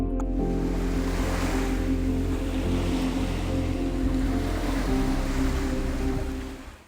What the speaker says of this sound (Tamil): அலைகள் கரையில் அடித்தாலும்